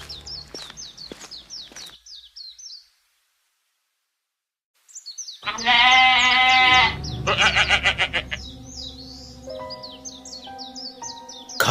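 Cartoon sheep bleat in quick wavering calls, first alone, then after a silent gap mixed with loud music and swelling background sound before more bleats return near the end.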